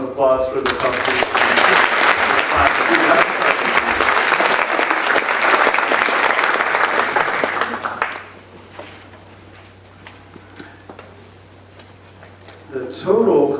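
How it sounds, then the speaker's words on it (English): An audience at a 2017 high school senior awards ceremony gives a loud, sustained round of applause for the top two students, lasting about eight seconds before fading to near quiet, with a brief swell of clapping again at the end. "A round of applause for the top 2 students."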